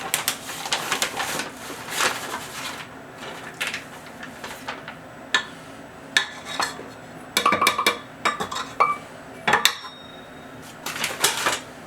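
Bread dough for homemade Amish bread is scraped off the walls of a mixing bowl, producing repeated clattering scrapes and knocks of a utensil against the bowl in irregular bursts, close and fairly loud, with no talking.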